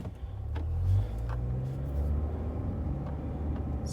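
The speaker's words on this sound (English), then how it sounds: "this car is making some weird rubbing noises as I'm driving" A Saturn Ion car rumbles steadily while driving, its low engine and road drone swelling slightly near the start, with a faint rubbing, rattling undertone beneath.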